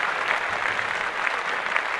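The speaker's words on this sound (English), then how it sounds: "Clap that up" Audience applause after a mention of a school graduate, a steady wash of many hands clapping at moderate distance, even and sustained with no voices on top.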